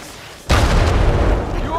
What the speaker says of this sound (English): Well, now we know what caused the explosion.